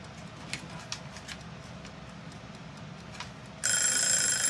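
A kitchen timer goes off suddenly near the end, its loud, steady electronic ring cutting in over a quiet room with a few faint clicks and rustles before it.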